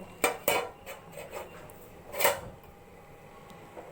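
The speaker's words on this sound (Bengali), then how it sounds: "নেড়ে চেড়ে আবারও কিছুক্ষণের জন্য আমি ঢাকনা দিয়ে রেখে দেব।" A spoon stirring a bottle gourd and hilsa fish head curry in a pot, then the lid set down over it; a few sharp clanks and scrapes near the start, a louder clatter a little later, then quiet.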